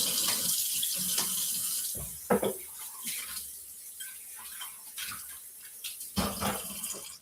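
A dish is rinsed under a running kitchen tap, with water splashing and rushing steadily into the sink and brief clatters of the dish being handled, heard close with no talking.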